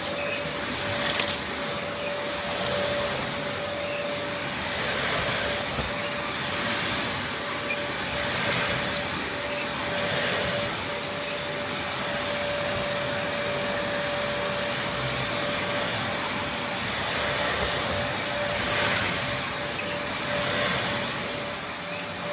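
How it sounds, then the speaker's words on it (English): A Dyson DC03 upright vacuum cleaner runs continuously with a loud, steady motor whine and airy rush, close by, with slight swells as it is pushed back and forth. "Now we've got the Dyson DCO3."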